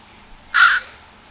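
A single harsh, loud caw from a crow close by, short and raspy, over a faint outdoor background during a scuffle with a squirrel.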